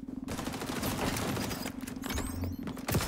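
Rapid bursts of gunfire from the video game XDefiant, a loud sustained volley of shots with brief gaps and a final sharp report, heard alone without voices.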